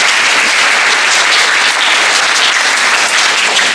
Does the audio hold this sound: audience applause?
yes